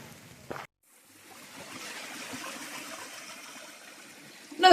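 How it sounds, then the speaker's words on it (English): Water from a flowing stream on the Appalachian Trail in Virginia rushes softly and steadily after a brief rustle and a moment of silence, fairly faint and continuous. "Another beautiful flowing water source."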